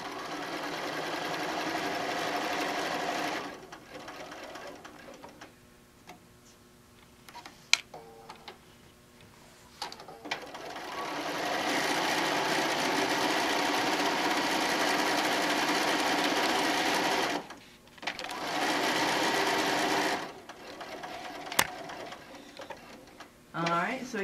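A sewing machine runs a basic straight stitch around fabric for a wine bottle bag in several steady, rapid, ticking bursts with short stops between them, close by, while people talk alongside it.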